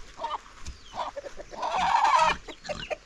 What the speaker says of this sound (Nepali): यो कुखुराले चाहिँ ठुङ्छ भन्छ दिदीले चाहिँ